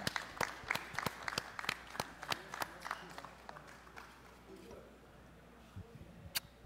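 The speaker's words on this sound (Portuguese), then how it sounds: "vamos receber com muito aplauso e muito carinho" Scattered audience claps at a samba show marking the Velha Guarda da Portela's 50 years, with sharp individual hand claps in an uneven rhythm that thin out and fade, leaving a quieter room with a few late claps.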